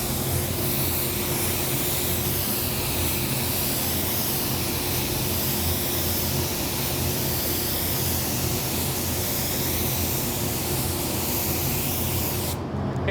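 A spray gun lays down Createx AutoBorne white sealer inside a running paint booth, a loud, continuous airy hiss over a steady booth fan drone for the whole stretch.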